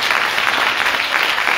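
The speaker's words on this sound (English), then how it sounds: "clap your hands" A church congregation claps hands during a morning worship service, dense continuous applause from many people at steady loud volume.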